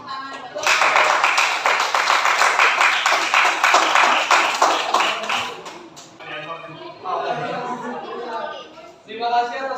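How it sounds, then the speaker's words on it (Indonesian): Classmates in an Indonesian classroom give a loud burst of clapping for a presenting group, dense and close for several seconds before fading into chatter and talk. "Kita kasih tepuk tangan"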